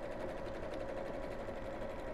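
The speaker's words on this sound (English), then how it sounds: "I wish I'd got a faster sewing machine." Sewing machine stitching across a fabric bag makes a steady, fast mechanical whirr at an even, moderate level with no pauses and no talk.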